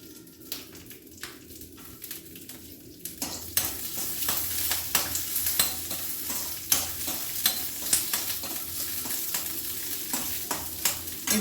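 Green chilies torn into pieces fry in about two teaspoons of oil, a steady sizzle that swells after a few seconds, with scraping stirs and clicks of a spoon against the pan close up.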